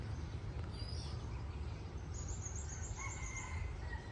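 Roosters crow from neighbouring houses, faint and distant over a constant low rumble, with a couple of drawn-out calls toward the middle and end.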